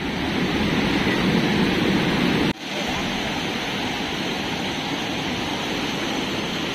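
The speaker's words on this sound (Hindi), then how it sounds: "बहाव काफ़ी खतरनाक है।" A strong, dangerous mountain river current after heavy overnight flow rushes as a loud, unbroken roar close by, with one brief dip in level partway through and no voices.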